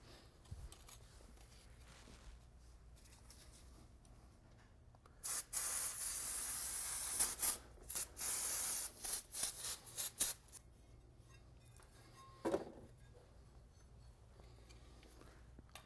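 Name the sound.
spraying brake cleaner onto car brakes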